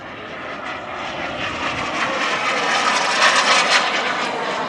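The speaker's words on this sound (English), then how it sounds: "You notice how the sound of the jet really sounds like a jet." Loud broadband jet roar from an aircraft flying past at an air show, swelling steadily and peaking as it passes close, with no voices.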